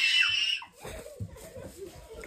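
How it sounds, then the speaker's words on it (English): Children screaming at a doll toy indoors, a loud high shriek at the start that breaks off, followed by mixed voices, giggles and chatter. "They're screaming."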